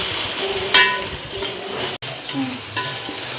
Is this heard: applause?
no